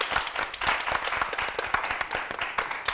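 A studio audience on a Catalan TV word quiz show claps for a contestant in a brief, lively burst of applause, close and dense, lasting only a few seconds.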